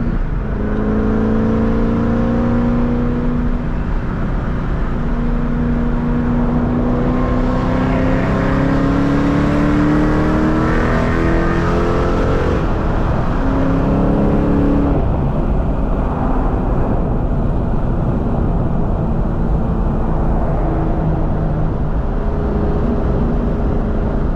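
A 2003 Ford Mustang Cobra Terminator with a supercharged V8 making hard pulls from the driver's seat, loud rising engine roar through the gears with a brief lift between shifts, close and continuous, no talking.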